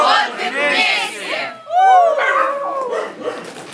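Several dogs at an animal shelter bark, yip and whine over and under one another, close and loud, in overlapping bursts.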